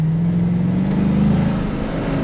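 Steady engine drone from a pickup truck with no front bumper or grille, heard up close as it rolls into a driveway after a hot drive, with a low humming tone that dips slightly as it slows.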